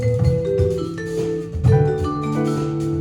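Vibraphone on a live jazz record, ringing mallet notes with sustained shimmering tones over a full band, loud and close with the ensemble underneath.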